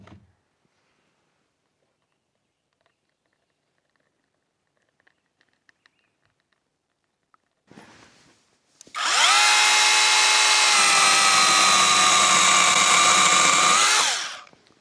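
A light battery-powered saw cuts through trees while clearing land for an off-grid solar setup: after a few faint clicks and handling noises, a loud, steady high-pitched motor whine runs for about five seconds, then winds down.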